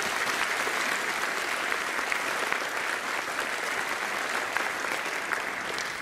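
An audience at a school's Year 7 parent information evening applauds a student speaker: a thick, even wash of clapping from a large room, loud and unbroken from start to finish.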